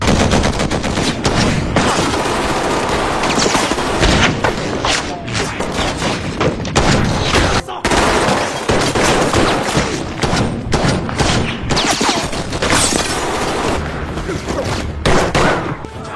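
Loud, dense bursts of rapid gunfire and booming shots fill an action film scene almost continuously, with brief pauses and heavy impacts.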